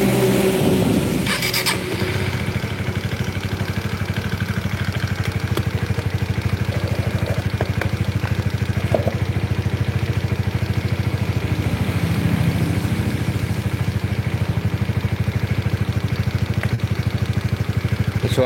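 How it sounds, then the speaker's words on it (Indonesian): A Honda CBR motorcycle with a DOHC engine runs at a steady idle throughout, a continuous low rumble with a few sharper clicks near the start as it catches. "Kita coba hidupkan mesinnya."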